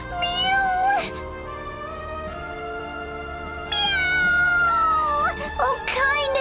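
A cat character in the video game Bravely Second gives drawn-out, melodic meows, two long calls separated by a quieter stretch of steady game music, heard clearly and up close.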